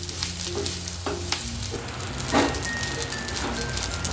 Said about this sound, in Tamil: இது கொஞ்சம் லைட்டாக ப்ரௌனாக வர வரைக்கும் இது வறுக்கணுங்க